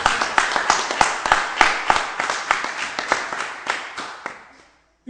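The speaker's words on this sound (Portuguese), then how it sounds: "Aplauda o Senhor nesta manhã." A church congregation claps in a steady rhythmic beat, about three claps per second, loud and close, then fades out toward the end.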